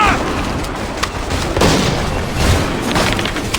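Battlefield gunfire and explosions in Assassin's Creed III, with scattered sharp shots and deep booms over a constant rumbling din, fairly loud, with some faint shouting mixed in.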